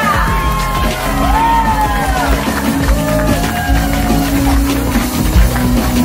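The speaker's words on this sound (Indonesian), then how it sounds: "Kita berikan tepuk tangan yang meriah untuk pembukaan Dulux yang pertama di Indonesia" Crowd at the opening of Indonesia's first Dulux paint experience store in Bekasi, loud continuous cheering, yelling and whooping with voices rising and falling over a busy, dense din close by.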